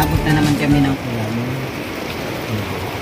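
Rain keeps falling during a tarpaulin installation, a steady close patter that continues under talking voices for a few seconds.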